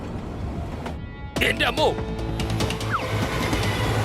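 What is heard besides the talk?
approaching train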